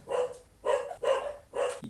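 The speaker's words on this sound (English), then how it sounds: "Sorry about the howling in the back and the barking." A dog barks in four evenly spaced, full-throated bursts, each with a howling, drawn-out tone, heard from the background and alone, with no talk over it.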